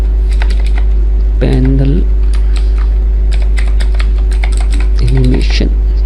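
Keys clatter on a computer keyboard in quick, close bursts of typing, with someone speaking over the keystrokes in two short phrases.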